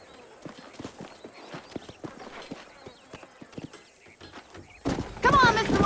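Horses' hooves clip-clop steadily in the Red Dead Redemption video game, a rhythmic run of light knocks near Armadillo, joined near the end by a louder burst of voices or whinnying.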